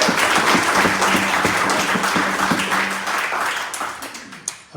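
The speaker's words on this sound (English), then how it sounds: "We give another round of applause for Koryne and Neil" Audience at a ceilidh claps in a warm burst of applause that fades gradually over a few seconds, with a faint low hum beneath and a couple of stray claps at the end.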